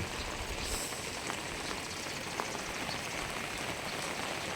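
Heavy rain pours down steadily, a dense unbroken hiss of drops drumming on surfaces, with no voices.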